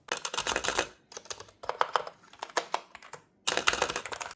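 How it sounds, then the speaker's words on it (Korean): Bursts of rapid typing on a Monstargear GUTS X108 low-noise membrane office keyboard, with soft, muffled key presses, pausing briefly between runs, close and fairly quiet. "넘버패드 쪽이랑 문자열 쪽이랑 타거음이 확실히 다르죠"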